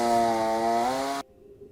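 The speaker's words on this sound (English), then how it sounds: "you can hear him going with a chainsaw" A chainsaw cuts wood outdoors in the rain, its loud, steady buzzing whine holding for about a second before cutting off abruptly into near silence.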